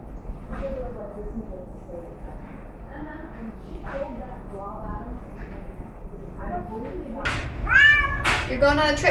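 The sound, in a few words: cat meowing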